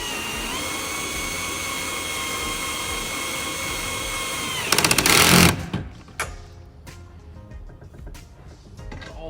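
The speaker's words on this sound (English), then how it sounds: "today we're gonna be using an 11mm socket. We're gonna do a long one, and go ahead and tighten all 4 bolts" A power tool with a long 11mm socket tightens four bolts to mount an 8-gallon WaterPort Weekender tank to a vehicle. A sustained motor whine rises into a short, loud rattling burst, followed by fainter clicks and handling noise.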